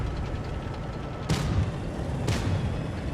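Two booming tank cannon shots, the second about a second after the first, fire high-explosive shells in World of Tanks Blitz with a BZ-176 tank. Both are loud and broadband over a constant low engine rumble, with no talk.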